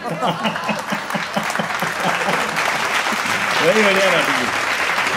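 Audience at a Hindi comedy poetry gathering breaks into steady, dense applause that fills the room, while a voice talks over the clapping throughout.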